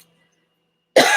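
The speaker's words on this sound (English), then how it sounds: "it's a dry, ugly cough too." A single sharp, harsh dry cough bursts out loud and close at the end after near silence.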